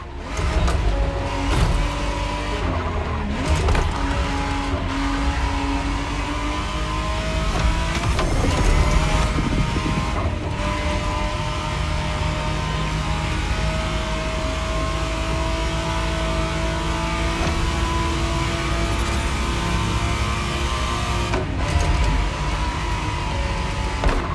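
A 1991 Ferrari Testarossa 512 TR in the racing video game The Crew Motorfest, its engine droning loud and steady throughout with surges of revving and accelerating, no voices.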